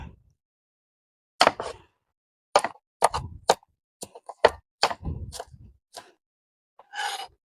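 A knife cuts an unpeeled apple into cubes on a board: a string of crisp, close crunching chops in irregular bursts, separated by short silences, with no talking.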